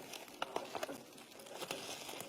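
Cat rummaging in a plastic bag holding valerian, giving soft crinkly rustling with a few sharper crackles, fairly quiet and close, with no talk.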